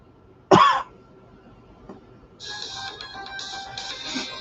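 A single sharp cough close by, followed by quiet background and faint music-like tones.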